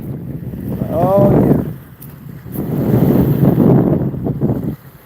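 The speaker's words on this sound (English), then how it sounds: "Y'all hear that wind?" Strong wind buffets the microphone in two long gusts, with a brief voice in between and a roaring, rumbling texture.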